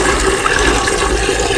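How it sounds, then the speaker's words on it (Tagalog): Running water pours while field snails are washed before being sautéed, a loud, steady rushing splash that lasts the whole short moment without any voices. "Hugasan na po mabuti."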